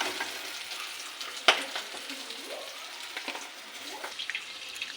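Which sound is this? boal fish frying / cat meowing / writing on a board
boal fish frying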